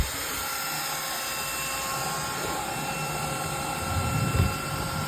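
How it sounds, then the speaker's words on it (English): Steady compressed-air blower hiss as it blasts dust out of a laptop, a continuous high-pitched rush at close range with a brief louder surge near the end. "use a compressed blower to blow out air on it"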